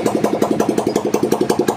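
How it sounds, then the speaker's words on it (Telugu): A rebuilt motorcycle engine idles up close with a steady, rapid thumping beat, even and loud throughout. "మీరు ఇంజిన్ బీటింగ్ అయితే వినండి భయ్యా"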